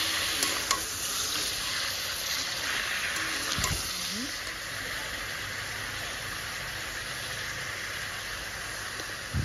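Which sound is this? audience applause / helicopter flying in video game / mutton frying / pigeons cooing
mutton frying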